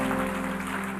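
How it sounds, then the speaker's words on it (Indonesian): Clapping from a church congregation praising God at the close of a sermon, a dense wash of hands under sustained organ-like music tones throughout. "Kasih tepuk tangan untuk Tuhan."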